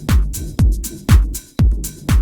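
A drum sample from the LaunchPad app hits five times at an even, steady pulse, each hit a punchy low thump with a bright crisp top, panned left and right, alone and fairly loud.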